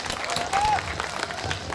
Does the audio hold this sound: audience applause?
yes